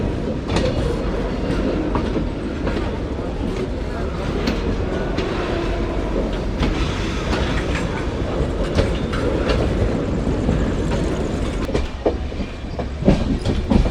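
A train rolls along steadily and slows to a crawl on the way into a platform. The rumble and wheel clatter stay loud and close throughout, with sharper clacks near the end.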